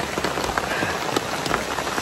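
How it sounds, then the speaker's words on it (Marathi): Heavy rain pours down at a valley edge near Bhandardara, a dense, close patter of drops striking surfaces, steady and loud with no voices. "पावसाला सुरुवात झाली आणि जोर जोरात पाऊस"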